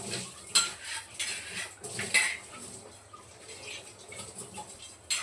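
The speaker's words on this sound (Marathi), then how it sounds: "हा तवा मी जास्त घासत नाही बघा, फक्त लाईटली थोडंसं." An iron griddle is lightly scrubbed with short, gentle scraping strokes and faint metallic clinks, close by with wet touches in between.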